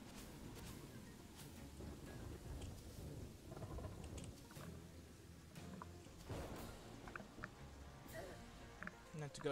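Rain and thunder in the video game Terraria, a steady rainfall hiss with low rumbling rolls of thunder underneath, heard behind a voice talking.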